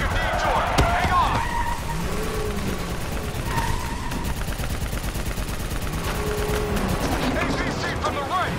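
Sustained gunfire rattles through a Call of Duty: Black Ops 3 firefight aimed at a VTOL aircraft, with dense bursts and a sharp loud shot early on, mixed with vehicle rumble and voices calling out over the noise.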